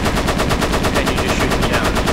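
Aircraft machine guns rattle in the flight combat game Flying Tigers: Shadows Over China, a rapid, continuous burst of evenly spaced shots, loud and close with no pauses.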